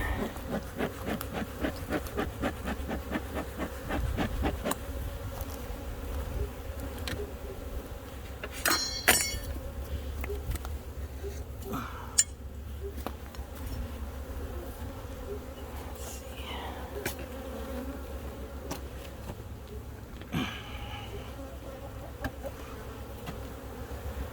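Honeybees buzz steadily throughout a beehive inspection, a dense close insect hum with occasional light clinks and knocks of hive tools and frames, no talking.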